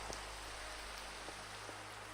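Rain in the game Minecraft falls as a soft, steady hiss with a few faint drop ticks, low in level and continuous throughout, with no voices.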